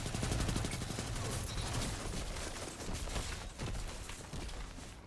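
Dense rapid gunfire from a Crucible match in Destiny 2 crackles in quick overlapping bursts, loud and continuous for several seconds before thinning into scattered shots.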